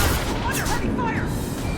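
Heavy gunfire in the video game Mass Effect 2, a dense continuous barrage of shots and blasts that fills the whole stretch at steady, loud level.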